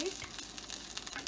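An aloo paratha fries in oil on a pan, giving a steady, close sizzle with no break and no talk.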